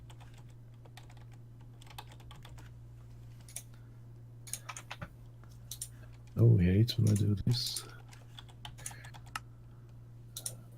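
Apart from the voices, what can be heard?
typing on computer keyboard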